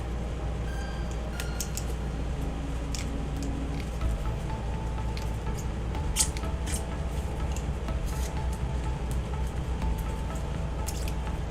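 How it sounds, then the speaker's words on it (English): An X-Acto knife trims cosplay foam armour for a thigh piece, giving short scattered slicing and squishing ticks over a steady low room hum, close and fairly quiet. "Now, I might actually use an X-Acto knife for this part."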